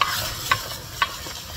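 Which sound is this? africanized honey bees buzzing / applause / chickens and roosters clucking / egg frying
egg frying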